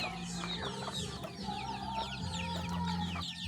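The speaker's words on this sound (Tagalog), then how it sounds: "Yan ang ating mga alagang manok. Kumakain ng mangga." Several chickens cluck and murmur close by in a steady, busy chorus while eating mango, with soft pecking and rustling underneath and no talking.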